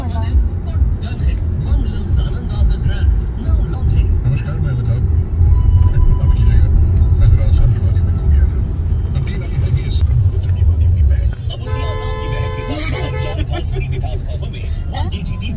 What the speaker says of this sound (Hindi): पापा गाड़ी चला रहे